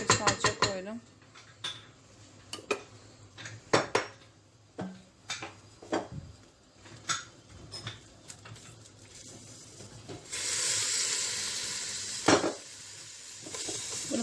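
Meat browning with tomato paste in a pan, with a soft sizzle under repeated sharp clinks and scrapes of a utensil against the pan, followed by a louder burst of frying near the end.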